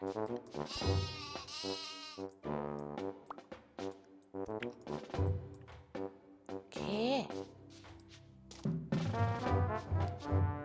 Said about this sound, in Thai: อย่าพึ่งไป อย่าพึ่งไปเจ้าแกะ